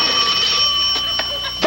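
A telephone rings with a steady, bright electronic trill that sounds loud and close. It continues through the clip, and a few faint knocks can be heard underneath it.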